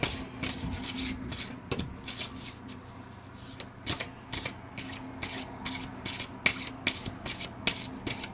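Tarot cards are shuffled by hand close up, a quiet run of papery riffles and soft rubbing swishes in irregular bursts, with no talk.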